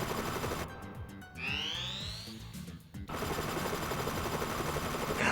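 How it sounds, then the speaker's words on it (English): Bursts of pistol gunfire from Front Mission 3 combat, rapid clustered shots with a rising mechanical whine between them, fairly loud over a busy game backdrop. "I'm gonna try and down it with pistols"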